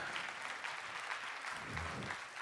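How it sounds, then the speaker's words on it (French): An audience claps at a French motivational talk, a soft, distant patter of many hands, fairly even and sustained across the short stretch with a faint low rumble underneath. "Ça, on peut applaudir pour ça."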